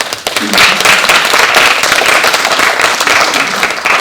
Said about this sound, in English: let's give a great round of applause